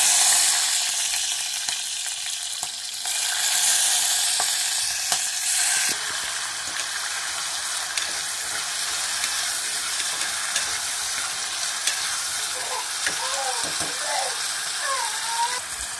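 Cinnamon bark and cloves drop into hot oil in a pan for biryani and crackle with a loud, steady sizzle and hiss. A brief bright burst comes early, and a few light clinks sound later.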